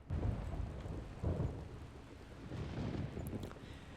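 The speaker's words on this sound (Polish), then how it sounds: "Deszcz zaczął padać, zrobiło się ciemno." Steady rain pours down in the dark world of the video game Sacrifice, a dense hiss with low rumbling swells like distant thunder and wind, continuous throughout with no voices.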